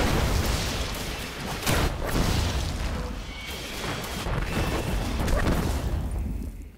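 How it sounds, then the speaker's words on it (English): The Golden Gun, a flaming solar pistol super in Destiny, fires heavy, booming blasts that roll into a sustained fiery roar, loud and close, with no speech. "a flaming pistol which disintegrates enemies with solar light"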